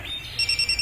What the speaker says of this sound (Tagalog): Ni-alarm na akong cellphone.